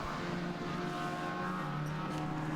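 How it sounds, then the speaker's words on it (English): A Terry Yules number 7 TVR race car pulls out of the pits and rejoins a historic race, its engine a steady, continuous drone with no one speaking. "there goes the Terry Yules number 7 TVR going out of the pits, back into the race"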